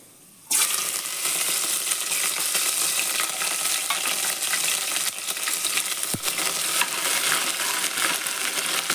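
Green chillies fry in hot tempering oil for khara pongal, a loud, steady sizzle that bursts in suddenly and crackles on without pause, close to the pan and with no talking.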